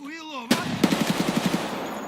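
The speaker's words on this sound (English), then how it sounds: "then I heard more gunfire" Rapid burst of gunfire in the video game Escape From Tarkov, about nine quick evenly spaced shots over one second, loud and close, following a brief voice.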